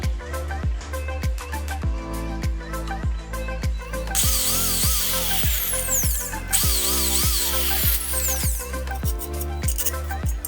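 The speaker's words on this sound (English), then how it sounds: "drill holes in the 2 parts." A power drill whines through 25 mm by 25 mm by 3 mm steel angle iron in repeated bursts, its pitch rising and falling as it bites, with short pauses between runs.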